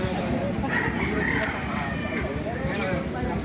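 Chickens and a rooster crow and cluck at a busy poultry market in Baliuag, Bulacan, the calls rising out of a dense, constant crowd din.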